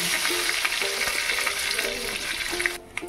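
A bay leaf, two dried red chillies and panch phoron spices crackle in hot oil, a dense close sizzle that stays loud and even, then drops away sharply near the end.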